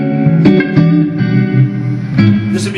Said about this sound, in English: I'm going to add some reverb, a longer decay time, and a bump in the volume.